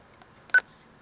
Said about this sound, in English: Roger beep, we will leave that on.